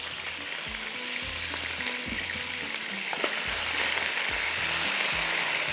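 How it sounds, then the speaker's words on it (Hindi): Chicken pieces fry in a pan for a Pakistani tomato curry, a steady loud sizzle broken by repeated scraping stirs and low clunks of a spoon against the pan, with no talking. "अच्छी तरह से आपने इसको फ्राई करना है"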